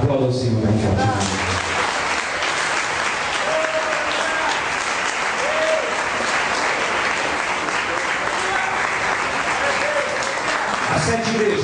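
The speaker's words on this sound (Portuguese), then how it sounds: "Aplauda o Senhor, bem forte." A church congregation applauds loudly and steadily for nearly twelve seconds, a dense wash of clapping hands with a few voices rising over it near the start and middle.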